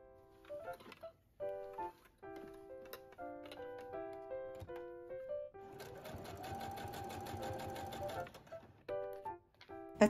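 A sewing machine stitching slits in a dress runs in short rapid bursts with pauses between, ending in one longer continuous stretch of whirring, near and clear.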